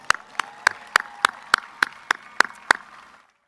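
Sharp, evenly spaced claps, about ten in a row, for class officers at a university commencement, close and distinct before stopping abruptly into silence.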